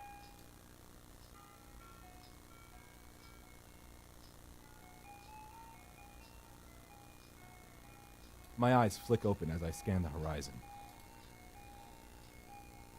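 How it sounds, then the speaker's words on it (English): An old-fashioned ice cream truck jingle plays through cheap, tinny loudspeakers, a thin, steady melody heard faintly at a distance throughout, while a voice speaks briefly over it near the end. "The song playing on a pair of shitty speakers. The kind you'd hear on top of an old-timey ice cream truck."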